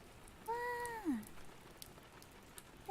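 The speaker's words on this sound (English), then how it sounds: "I have the rain on today for you guys." Soft rain plays as a steady hiss of light patter for an ASMR stream, continuous and fairly faint, with a short meow-like cry rising above it partway through.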